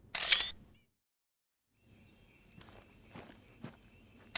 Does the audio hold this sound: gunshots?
no